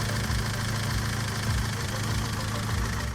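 An old BMW E30 316 carburetted engine idles steadily with a low, lumpy rumble and a faint ticking knock, continuous and close.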